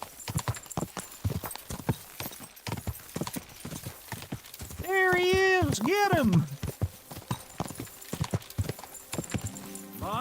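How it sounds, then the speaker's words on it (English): In a video game, a horse's hooves clop rapidly in a steady galloping rhythm, and a loud neigh rises midway. Voices speak briefly over the hoofbeats. "My, what a beautiful horse."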